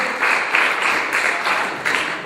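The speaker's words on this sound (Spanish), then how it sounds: "Aplaude a Cristo. A Cristo no se le aplaude con temor, se le aplaude con ganas, con gozo" A church congregation claps together in a brief, dense burst of applause, steady and fairly loud with slight swells, no voices standing out.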